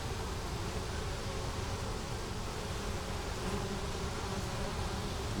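Honey bees from a hive that has swarmed hum in a dense, steady, close buzz as the hive lies open, continuous throughout with no speech.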